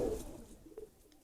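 Pigeons from a big breeder's Ababil flock coo briefly in a low, soft burble, close by and faint, with a short murmur of background noise.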